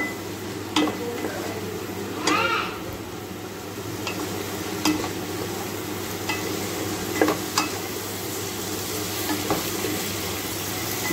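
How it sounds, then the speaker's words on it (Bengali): Ground spices (salt, turmeric, cumin, coriander, Kashmiri red chili powder) sautéed in a pan for egg pulao, with a steady low sizzle under intermittent scraping stirs and a few sharp clinks of the spoon. "কাশ্মীরি রেড চিলি পাউডার দিয়ে এটাকে ভালো করে এবার কষিয়ে নেব"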